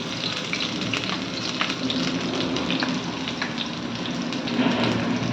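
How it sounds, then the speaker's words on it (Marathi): Grated ginger and garlic sautéing in a dal khichdi tadka, a dense, even crackling sizzle that stays loud and close throughout with faint stirring ticks. "तर आपण आलं लसूण छान परतून घेणार आहोत।"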